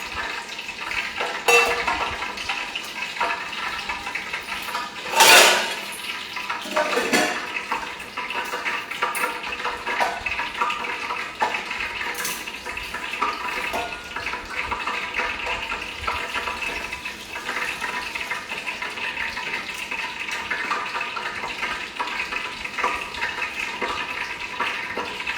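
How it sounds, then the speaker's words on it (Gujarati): Amul buttermilk poured from its pack into a cooking pot, giving a steady, continuous liquid splash and gurgle that runs almost unbroken for around twenty-five seconds, close by, with one brief louder clunk early on. "છાશ જે છે અમૂલની એને એક તપેલીમાં કાઢી દઈએ"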